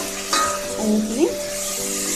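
Ground tomato and ginger masala fries in a pan for rajma curry, sizzling steadily while a spoon stirs and scrapes in short strokes close by.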